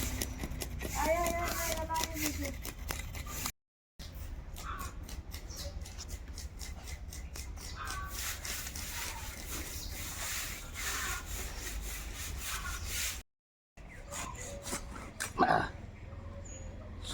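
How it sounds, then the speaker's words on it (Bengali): A large chital fish being cut, with rhythmic rough rasping and scraping strokes repeating steadily at close range, and people talking over parts of it. "মাছ কাটছি"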